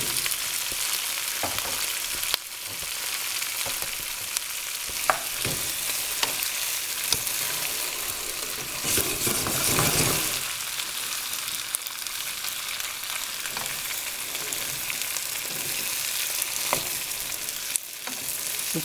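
Courgettes and summer squash sizzle and fry steadily in oil in a pan for ratatouille, a close, continuous crackle with occasional stirring scrapes and no talking.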